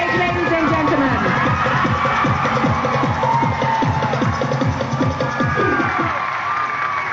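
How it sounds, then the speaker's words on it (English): A large beauty pageant audience cheers, whoops and applauds steadily as contestants walk to the stage, a dense, continuous roar of voices. "Please cheer them on as they make their way to the stage, ladies and gentlemen."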